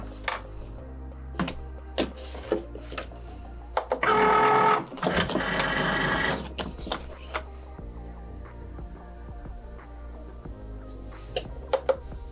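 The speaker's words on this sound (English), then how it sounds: "put this mat in our machine and cut our party foil." A Cricut cutting machine cuts party foil on a mat, giving faint intermittent clicks and ticks, then a loud dense burst of motor whirring for roughly a second in the middle before returning to sparse quiet clicks.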